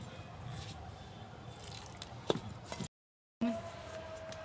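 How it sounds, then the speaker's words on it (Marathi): Stiff chapati-style dough for sweet shev, with fennel seed mixed in, being kneaded by hand: soft, wet squishing and pressing sounds close up, with a few sharper squelches, a brief gap of silence, then the kneading resumes. "आता हे पीठ आपण चपातीला मळतो तसं मी मळून घेते"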